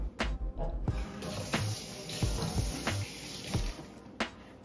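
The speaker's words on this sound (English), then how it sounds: "So I'm gonna rinse these off right quick." Extra-small shrimp rinsed under a cold kitchen tap: a steady hiss of running water, broken by several sharp knocks and clatters from handling in the sink.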